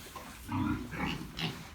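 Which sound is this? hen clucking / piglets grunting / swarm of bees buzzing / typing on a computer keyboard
piglets grunting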